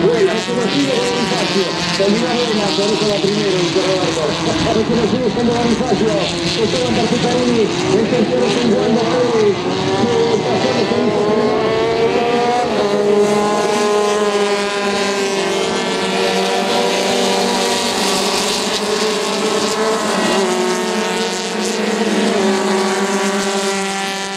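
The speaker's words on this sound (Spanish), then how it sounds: "todos los autos de la Fórmula Renault buscando cumplir la primera de 12 vueltas que tiene esta final" Formula Renault race cars on a circuit at Coronel Suárez in a 12-lap final, engines screaming loudly with rising and falling pitch as cars pass and shift, under continuous commentary.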